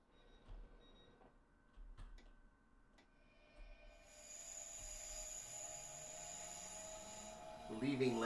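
A simulated electric train on the Mittenwaldbahn pulls away while its brake is still applied: a steady hiss builds in, and a motor whine climbs slowly in pitch beneath a low rumble.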